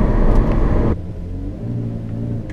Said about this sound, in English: You'll hear the shifts in sport mode.